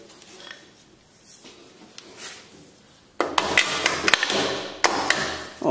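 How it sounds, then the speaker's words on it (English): A hammer drives a mounting bolt on a go-kart engine: quiet shop sounds first, then a run of about six sharp, loud metallic strikes at an uneven pace, close by, with no speech. "nothing a little hammer can't take care of"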